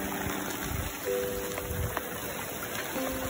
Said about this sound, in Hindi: सुबह से कंटिन्यू बारिश हो रही है बहुत ही तेज।